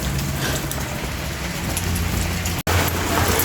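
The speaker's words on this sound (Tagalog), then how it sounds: "Ayan, maulan." Rain falling steadily in a dense, even hiss of drops on surfaces, loud and close, with a brief dropout near the end.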